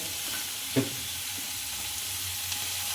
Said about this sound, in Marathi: लगेच हे चवळी टाकून घ्यायचं याच्यात.